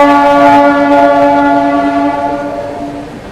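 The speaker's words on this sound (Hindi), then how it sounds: "निर्धारित समय से 25 मिनट की देरी के साथ अपनी श्रमजीवी एक्सप्रेस पहुंच चुकी है राजेंद्र नगर पटना" Shramjeevi Express (12392, Delhi–Rajgir) train arriving at Rajendra Nagar station in Patna, a loud sustained multi-tone horn blaring for about three seconds and slowly fading, with no talk.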